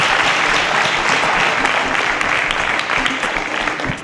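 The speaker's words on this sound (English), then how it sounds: "A round of applause as all our contestants had the right answer." Studio audience applauding quiz show contestants, a steady loud wash of clapping that holds throughout and tapers slightly at the end.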